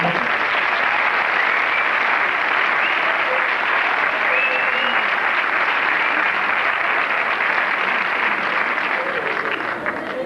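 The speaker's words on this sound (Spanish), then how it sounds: "Un aplauso para todos ellos." A festival audience at a 1998 folklore dance day gives dense, steady applause for the Danzas El Castro folk dance group from Ponferrada, El Bierzo, loud and unbroken throughout.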